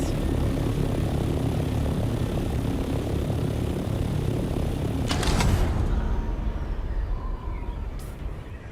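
Aircraft engine droning while gliding in a Dune video game: a steady, loud propeller-like hum holds throughout, with a brief rushing swell midway before the tone thins slightly toward the end.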